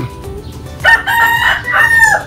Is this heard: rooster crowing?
yes